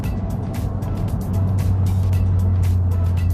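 A 300whp Mazdaspeed 6 engine humming steadily on a test drive, a low constant drone from inside the cabin with road noise and light ticking sounds over it.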